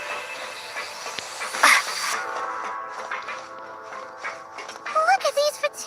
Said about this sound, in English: Is this actually a train?